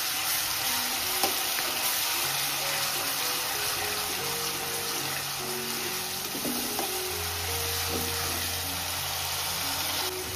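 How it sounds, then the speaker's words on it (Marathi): Dry green masala paste sizzles with garlic and curry leaves in a pan, a constant loud frying hiss with occasional stirring scrapes under a low steady hum, and no talk. "मस्त परतून घेऊ."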